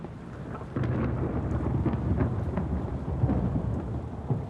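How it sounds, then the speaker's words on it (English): Thunder rolls through a horror video game, a low sustained rumble over steady rain that swells and fades for several seconds, with no voices. "Nice rumble of thunder there."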